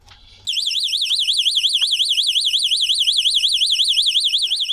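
A cheap window alarm, a loud, piercing electronic alarm, suddenly starts up and wails continuously in a fast warbling pulse, close by.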